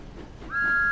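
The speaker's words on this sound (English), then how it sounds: "And Emily blew her whistle loudest of all." A steam engine whistle from a Thomas the Tank Engine cartoon sounds as one clear, steady, loud tone that starts midway and holds to the end, following a brief quieter lead-in.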